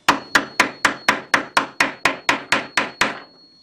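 A guitar fret is tapped home with a radius caul, producing a dozen sharp, evenly spaced hammer knocks at about four per second, loud and close, with a brief ring fading after the last blow.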